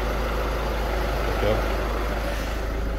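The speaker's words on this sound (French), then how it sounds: "Donc voilà, le moteur il tourne." A VW Golf 6 1.6 TDI diesel engine idling after an EGR valve replacement, a steady low hum and rattle held evenly throughout, close by and without speech.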